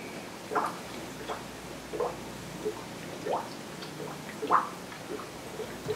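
Water drips in a slow, irregular run of soft, close plinks while a PC watercooling loop's radiator is filled, about half a dozen droplets spread over a quiet background.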